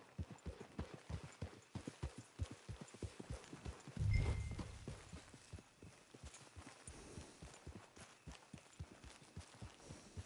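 Steady clip-clop of horse hooves walking at an even rhythm in Red Dead Online, close and fairly quiet, with a brief low thump partway through.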